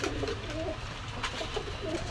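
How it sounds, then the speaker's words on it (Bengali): Pakistani high flyer pigeons at a shop, soft repeated throaty coos close by over a steady low background hum. "এই একটা কামাগার কবুতর ছাড়লাম, রক্তের মতন চোখ লাল"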